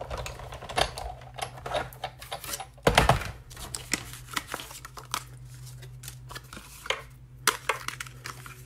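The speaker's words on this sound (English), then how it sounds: "So I'm going to go ahead and cut the largest of the dies." A die-cutting machine presses cardstock through a large stitched nested die, making irregular close clicks and cranking rattles with one louder crunching pass partway through. No voices are heard.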